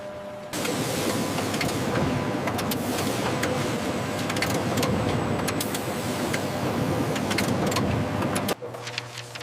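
A printing press lays down the base layer of Canadian banknotes, a loud continuous mechanical rumble and clatter with rapid rhythmic ticking that runs steadily and then drops off sharply near the end.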